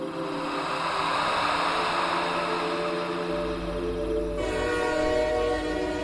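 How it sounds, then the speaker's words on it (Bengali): A train whistle sounds from a distance in a cartoon horror story, a sustained tone over the steady rumble of a train approaching a station. "দূরে ট্রেনটা একটা হুইসেল দিল।"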